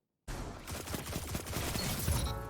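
Rapid sidearm gunfire from the Traveler's Chosen exotic in Destiny 2, a dense continuous burst of shots starting abruptly and staying loud with game effects mixed in.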